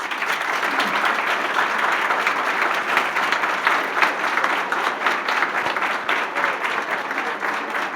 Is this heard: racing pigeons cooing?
no